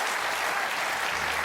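A dense, steady wash of television studio audience clapping, loud and sustained throughout with no pauses.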